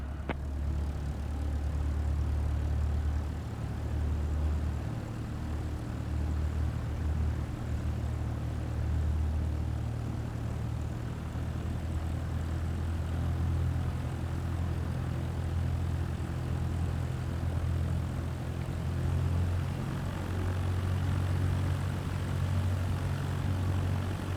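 A propeller aircraft engine taxiing in Microsoft Flight Simulator 2024 on PS5, heading along the taxiway toward a runway holding point: a steady, loud low droning hum that stays even throughout, alone without any talk.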